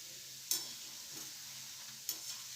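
Dal vadas fry in oil in a kadai with a soft, continuous sizzle, broken by two brief scraping stirs a second and a half apart; quiet and without any talking.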